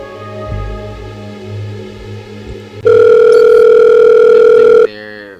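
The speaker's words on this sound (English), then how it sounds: "Phone call?" A steady, loud telephone dial tone holds for about two seconds, cutting in abruptly over quieter background music and ending just as abruptly.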